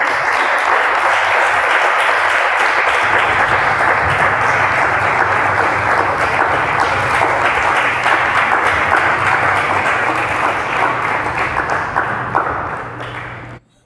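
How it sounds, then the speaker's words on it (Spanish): A church congregation gives a loud, sustained round of applause during a sermon, dense steady clapping filling the room for over twelve seconds before it fades out abruptly at the end. "Bríndale fuertes palmas al Rey."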